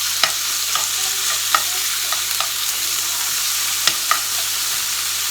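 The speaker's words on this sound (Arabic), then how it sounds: "غادي نلوح فيها هاد السيبيا اللي عندي كما قلت لكم راه مغسوله" Washed cuttlefish frying in a hot pan, a steady sizzle with occasional sharp spatter pops and light stirring scrapes, fairly loud and continuous with no talking.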